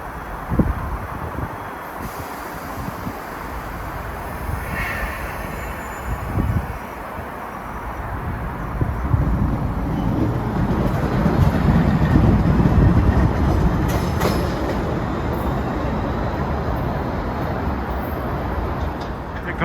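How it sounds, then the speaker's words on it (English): A Boston MBTA Ashmont subway train led by Pullman Standard cars arrives at a station, a steady loud rumble building and swelling as it rolls in, with no one talking. "Comes an Ashmont train."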